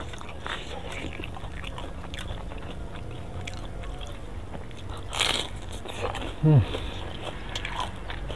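Crunchy fried risoles being bitten and chewed, soft crunching and chewing up close with one louder crisp bite near the end, amid background murmur and speech.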